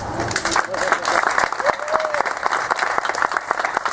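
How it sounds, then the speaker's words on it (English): Audience at a Murrieta Chamber gathering gives Kay Harrison a warm round of applause, close, busy clapping with some voices talking underneath. "So one last round of applause for Kay Harrison."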